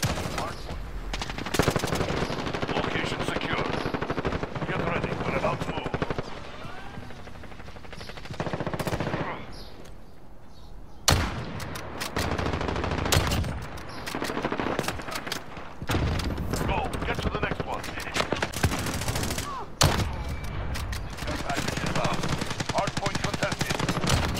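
Automatic machine gun fire from the video game Call of Duty: Modern Warfare, in sustained loud bursts broken by short pauses across a busy multiplayer match, with game voice callouts in places.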